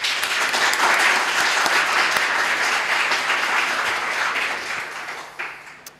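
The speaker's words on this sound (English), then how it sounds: "please welcome Anthony Shaw with a round of applause" Conference audience applause welcoming a speaker at PyCon APAC 2023, a dense, steady round of clapping from a hall full of people that fades over the last second or so.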